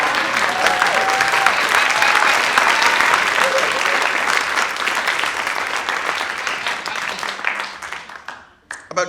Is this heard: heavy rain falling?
no